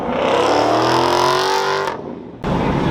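A purple Ford Mustang rolls into a Fourth of July car meet, its engine roaring loud and close with a rising rev, briefly dropping off before the rumble returns.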